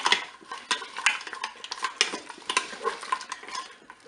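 Frozen courgettes get stirred in a Cookeo pot alongside salmon, a busy run of close utensil scrapes and clinks against the pot over a soft sizzle, with no talking.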